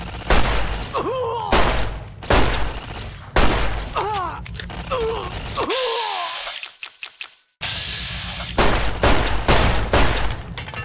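A turret fires loud, rapid bursts in Fallout: New Vegas, the booming volleys repeating close and sharp across the clip, broken by a brief quiet gap before the firing resumes.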